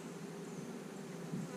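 Honey bees on a hive frame buzz in a dense, continuous hum, close and fairly quiet, with no other sounds.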